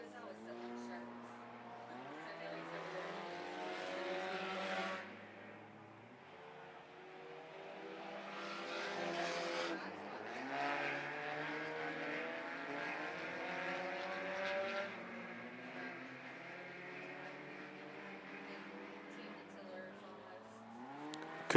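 Sprint race cars scream around a speedway oval, engine notes rising and falling as the pack laps, with a race announcer talking over the sound throughout.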